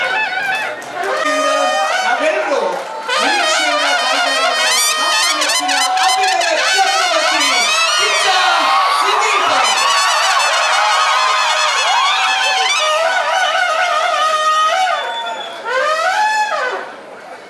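A large audience roars with cheers, shouts and whistles as actor Sudeep arrives on stage at the Yakshadhruva Patla Sambhrama 2024 celebration in Mangaluru. The loud, dense crowd noise runs almost without pause and dips briefly near the end.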